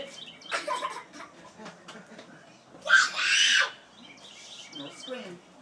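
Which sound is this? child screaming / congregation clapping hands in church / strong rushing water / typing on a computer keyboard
child screaming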